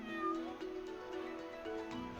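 A cartoonish pet cat meows in the Swordsman Online Mobile game, a short close mewing call that rises and holds before trailing off, clear and alone with no talk.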